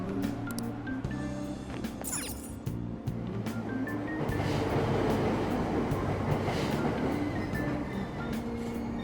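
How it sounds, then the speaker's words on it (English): Subway train in a Tokyo station pulling away after its doors close, a low rumble and rising clatter of rail cars building and holding steady, with faint clinks on top. "Train doors are now closing."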